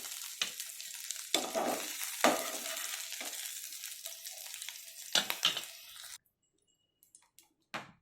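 Cut ridge gourd pieces dropped into hot oil for a ridge gourd tomato chutney, crackling and sizzling loudly with stirring bursts, easing off before falling silent, then a few faint ticks and a last short sizzle.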